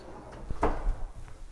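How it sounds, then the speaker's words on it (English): A pull-out kitchen drawer in a large home glides and thuds once, making a brief, fairly close, soft knock and rumble against quiet room tone. "pull out drawers, keep everything really clean and seamless"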